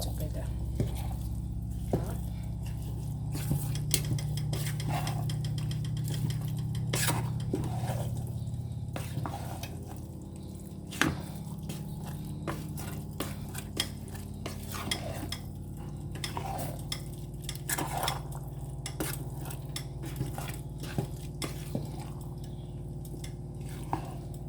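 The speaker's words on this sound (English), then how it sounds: "Let's mix them together" A spoon stirring lentil porridge with black pepper in a pot, soft wet squishing and scattered scraping clicks over a low steady hum, with a voice talking in places.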